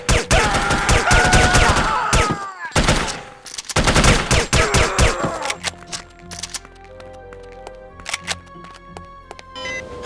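Video game gunfire crackles in dense rapid bursts, loud and close, with a short gap in the middle, then thins to scattered shots over musical tones and game effects.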